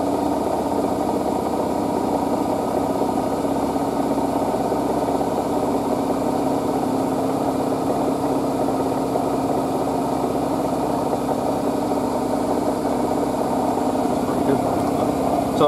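Hotpoint WD860G Ultima Super Silent washer dryer running a cotton cycle, a steady close mechanical hum and rumble with a faint, continuous drum rattle underneath, no pauses.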